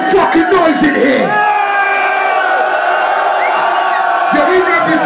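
Crowd at a live hip hop concert in a club in Aarau, Switzerland, cheering, whooping and yelling loudly, a dense roar of many voices sustained throughout with individual shouts rising above it.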